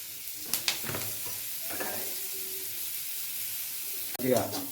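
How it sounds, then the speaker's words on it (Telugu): Onion, capsicum and cabbage stirred in butter in a pan give a soft steady sizzle, with a few scraping spoon strokes near the start and a louder clatter near the end. "బటర్లో కలుపుకోవాలి"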